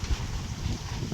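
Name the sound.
strong wind blowing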